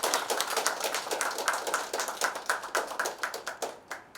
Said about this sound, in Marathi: तिच्यासाठी नक्कीच सगळ्यांनी टाळ्या वाजवल्याच पाहिजे